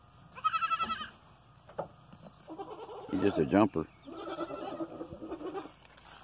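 Goats on a family homestead bleat at feeding time, several wavering calls at moderate distance, with someone talking briefly between them.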